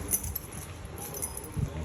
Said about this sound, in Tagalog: Ito na yung susi for actual viewing.